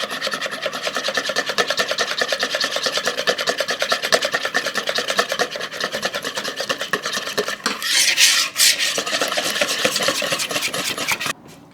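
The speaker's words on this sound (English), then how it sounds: "Then while whisking again, you're going to add 1/4 cup of your cocoa powder." Keto chocolate donut batter is whisked steadily in a bowl while cocoa powder is added, giving a close, continuous rapid scraping and rubbing. It briefly changes character near the end before stopping, and no one talks.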